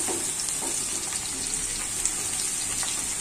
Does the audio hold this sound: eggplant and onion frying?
yes